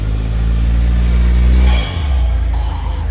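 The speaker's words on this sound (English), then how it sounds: "Also Mugen kitted, very nice, with a very nice exhaust node to boot." A Mugen-kitted, rear mid-engined Honda Beat at a youngtimer car show revs its engine. A steady, close exhaust drone holds and then drops off sharply, followed by a lower idle.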